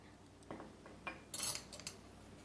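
A spoon mixing masala into whipped yogurt in a bowl, producing a few sparse metallic clinks and scrapes against the dish, faint and irregular, with a sharper clink at the end.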